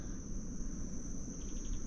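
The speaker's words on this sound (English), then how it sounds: "And the bees here. They're all worked up." Honeybees hum steadily around a beehive on a Kauai property, a continuous close insect drone with a thin high whine running through it, no voices.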